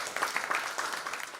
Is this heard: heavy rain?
no